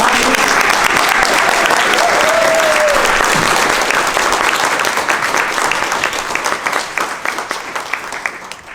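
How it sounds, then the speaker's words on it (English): Loud, dense applause from the audience at an annual meeting of a civil liberties organization, sustained for several seconds before gradually thinning and tapering off toward the end. "If we can have one more round of applause for the"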